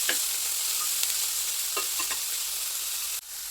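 Mixed vegetables, including onion, stirred in a frying pan over a steady sizzle, with a few spoon scrapes against the pan, close and clear, no talking.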